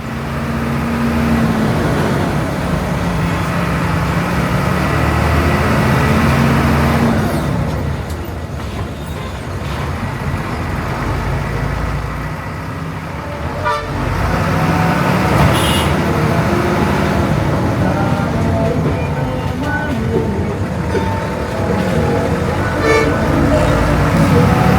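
Heavy traffic jam on a toll road heard from inside an older non-air-conditioned city bus, with loud engine rumble, passing vehicles and car horns sounding over the constant drone, and occasional voices talking.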